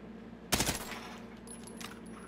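A single sharp gunshot in a video game, fired at a target, cracks out loud and close, with a short decaying tail and a couple of fainter sounds afterward over a steady low hum.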